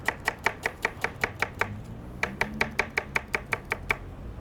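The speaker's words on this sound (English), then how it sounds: "Then I got a little bit of red onion here. And then you just julienne this very quickly." A knife julienning red onion on a cutting board gives quick, evenly spaced chops, about twenty crisp taps close up with a brief pause midway.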